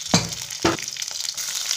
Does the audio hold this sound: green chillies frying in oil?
yes